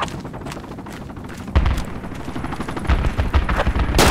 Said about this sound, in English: Enemies shooting from southeast.